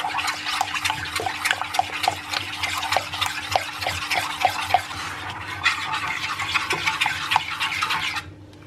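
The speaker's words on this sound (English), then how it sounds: "And we're just going to mix that through till it's all well combined." Eggs being beaten into cupcake batter in a bowl, a steady, busy run of close scraping and stirring strokes with frequent sharp taps against the bowl, continuing without pause until it cuts off near the end.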